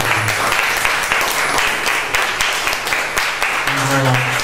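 Clapping from a cafe crowd at a live music gig keeps up throughout, dense and near, while a voice talks over it toward the end.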